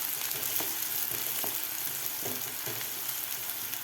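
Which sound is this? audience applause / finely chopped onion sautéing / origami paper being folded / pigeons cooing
finely chopped onion sautéing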